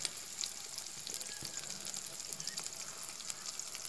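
Green chillies fry in the oil of a rasam tempering for egg rasam, a soft, steady sizzle with faint crackles running throughout, fairly quiet and close.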